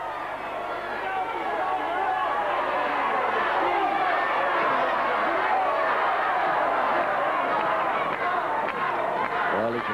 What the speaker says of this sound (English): you can hear those shouts from the crowd here